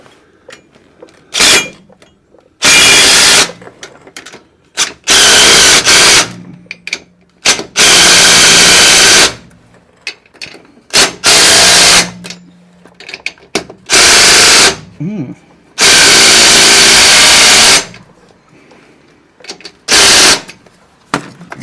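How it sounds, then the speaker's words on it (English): An impact-style power tool torquing the bottom bracket bolts during a Firestone Ride-Rite airbag install on a 2004 Dodge Ram 3500 fires in loud, close, rattling bursts of one to three seconds, separated by pauses with faint background noise. "let's torque this bottom bracket"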